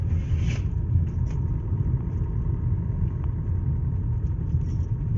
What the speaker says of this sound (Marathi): गाडी तिथे हळूहळू जाते